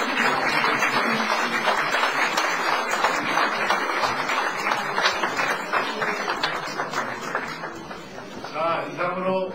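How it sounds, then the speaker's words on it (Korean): Applause from the audience at a Korean presidential primary candidacy press conference, dense, steady clapping that carries on for nearly ten seconds and thins slightly near the end, with a few voices underneath. "자, 박수로."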